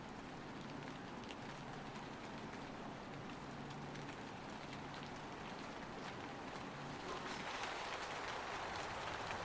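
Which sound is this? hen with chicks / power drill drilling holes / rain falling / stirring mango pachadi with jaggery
rain falling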